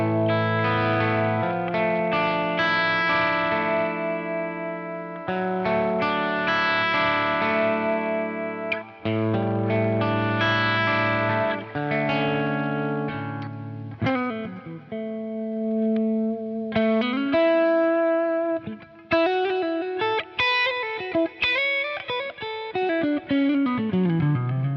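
Electric guitar played through a Marshall 2203 JCM800 amp model in a Line 6 Helix, with chunky distorted chords and sustained notes giving way to bending single-note lead lines, loud and close for about twenty-five seconds with no talking.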